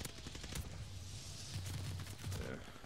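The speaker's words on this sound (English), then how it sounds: "God, I love the Tommy gun." Rapid bursts of Tommy gun fire in the World War II shooter Call of Duty Vanguard, on the cramped Shipment map, heard faintly in a busy mix of overlapping shots and background game noise.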